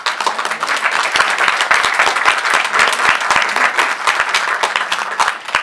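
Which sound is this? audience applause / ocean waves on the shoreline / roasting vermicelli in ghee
audience applause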